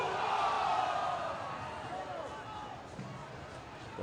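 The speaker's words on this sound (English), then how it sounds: "The Railhawks crowd is loud and proud here with the score tied at 3" A soccer stadium crowd roars at a Railhawks NASL match with the score tied, a broad, sustained wash of cheering and noise, loud at first and easing slightly, with a commentator's voice over it.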